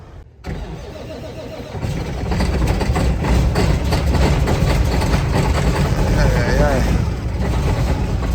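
A semi truck's diesel engine cranks and catches, then settles into a loud, steady idle with a low rumble on a snowy Chicago day.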